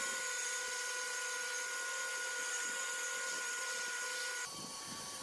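A power sander smoothing branches of scrap wood whines steadily at close range with a constant high-pitched drone, then drops to a slightly lower, rougher tone near the end.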